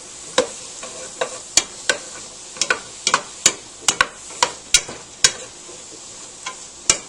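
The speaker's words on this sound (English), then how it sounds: "So now I'm adding the mushrooms. You want to stir this every time so that the vegetables get coated in the oil." Mushrooms and vegetables sautéing in oil in a pot, with a spoon stirring in a steady series of sharp scrapes and clacks over a soft background sizzle, close and clear.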